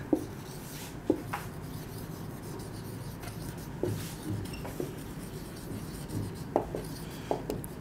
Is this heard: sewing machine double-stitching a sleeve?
no